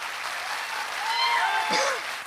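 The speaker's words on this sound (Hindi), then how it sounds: "तालियां कमजोर है, फटाफट तालियां बजाओ" An audience at a motivational talk breaks into brisk applause, a dense wash of many hands clapping at once that holds steady and grows a little louder midway, with a faint whistle-like tone above it.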